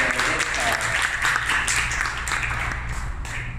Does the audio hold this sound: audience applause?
yes